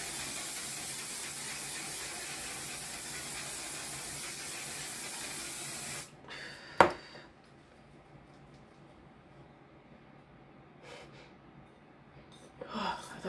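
A facial spray is misted onto the face with a loud, continuous hiss lasting about six seconds, then cuts off, followed by a sharp click and a few faint rustles.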